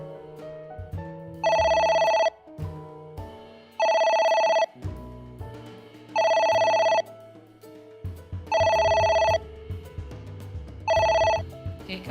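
A phone rings in AI: The Somnium Files, repeating electronic ring bursts of about a second each, five times with short gaps, over a game's background music.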